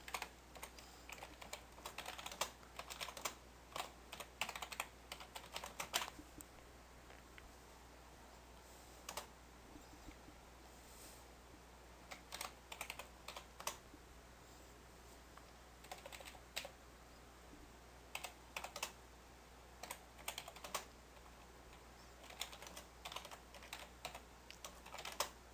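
Rapid keystrokes on a computer keyboard while a message is written in a Twitter automation tool, coming in clustered bursts of close, crisp clicks separated by short pauses, over a quiet background hum with no talking.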